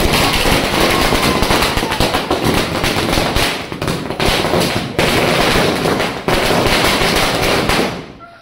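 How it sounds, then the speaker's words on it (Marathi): Dense, loud firecrackers crackle and pop in rapid overlapping bursts at a Ganpati immersion in Konkan, sending off a household one-and-a-half-day Ganpati, with a few brief lulls before fading out. "आता फटाके लागले"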